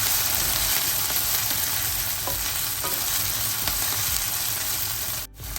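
Green chillies and garlic sizzle steadily in a pan of hot oil while being cooked for a soya chunk and brinjal curry, a close, continuous frying hiss with a few faint stirring clicks and a brief knock near the end.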